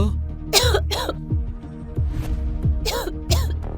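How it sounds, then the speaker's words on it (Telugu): A woman coughing from the cold, with two bursts of harsh coughs near the start and two more near the end, loud and close, over a low steady hum. "ఆమె చలికి దగ్గుతుంది"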